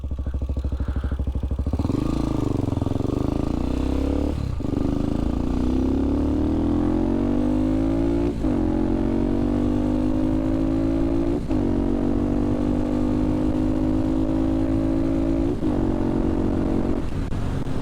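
A carbureted motorcycle engine runs close by with a steady throbbing idle, revved up several times so its pitch climbs and holds, continuous for the whole stretch with no voices.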